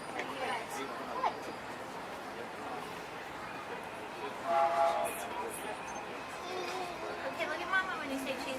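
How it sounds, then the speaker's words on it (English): A Walt Disney World train sounds faintly in a busy park, with a horn or whistle rising briefly in the middle over crowd chatter and nearby talk. "This train could probably take us to the roller coasters."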